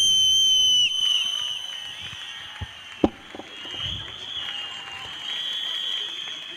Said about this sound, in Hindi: इसने सीटियां मारी